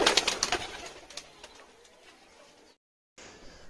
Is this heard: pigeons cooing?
yes